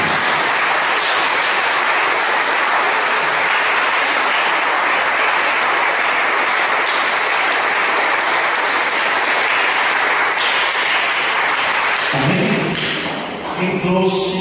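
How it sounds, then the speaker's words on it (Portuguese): A church congregation claps and applauds continuously, a dense, loud wash of hand claps that swells steadily and then tapers off at the end, with faint voices emerging as it fades. "Você pode aplaudir o Senhor."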